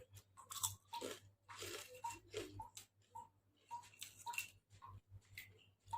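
Someone bites and chews homemade crispy pea crackers up close, sharp irregular crunches and crackles in bursts with short quiet gaps between bites.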